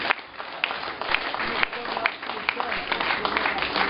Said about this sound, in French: je vous demande encore et toujours un grand vent d'applaudissements pour ces trois personnalités